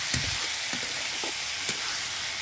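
Egg and potato curry sizzling as it is sautéed in a pan in a home kitchen, a continuous close frying hiss broken by a few soft stirring scrapes.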